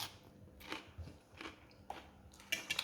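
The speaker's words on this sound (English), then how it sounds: "I'm going to listen to that crunch" Crispy, crunchy hoisin tofu gets bitten and chewed up close, giving several sharp crunches spread out with quiet gaps between them and a quick cluster of crackly bites at the end.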